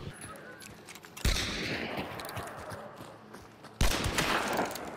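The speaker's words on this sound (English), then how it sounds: "That's someone shooting at us." Other players shoot in Hunt: Showdown, two sharp gunshot blasts a few seconds apart, each leaving a rumbling echo over steady outdoor bayou ambience.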